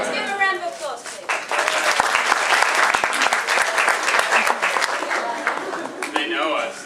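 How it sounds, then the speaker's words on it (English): Audience applause during a morning session of a functional movement screen class, steady dense clapping for several seconds with some voices speaking at the start and end. "Let's give a round of applause, please."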